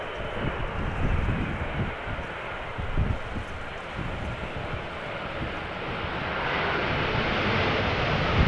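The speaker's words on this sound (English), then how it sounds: "So this is the Dreamliner 10 arriving from LAX." A Boeing 787-10 Dreamliner airliner arrives at Amsterdam Schiphol Airport in crosswind, a loud, steady engine roar with broadband wind rush that builds slightly toward the end.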